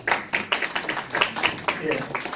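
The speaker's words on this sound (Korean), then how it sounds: "두 분 교수님께 박수로" Scattered clapping from a small seminar audience at a legal conference, uneven individual claps close by, with a voice murmuring beneath.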